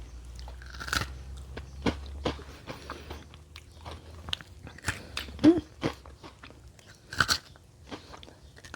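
Chocolate being bitten and crunched close up, with a series of sharp, irregular cracks and chewing noises over a quiet background.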